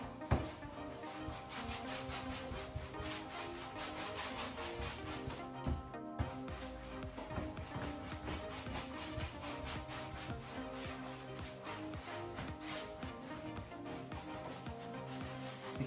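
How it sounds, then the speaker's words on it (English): A cloth or brush works clear wax vigorously into detailed chalk-painted wood, giving steady, rhythmic close-up rubbing strokes that continue without pause and with no one speaking. "Because there's a lot of detail, you really have to work the wax in."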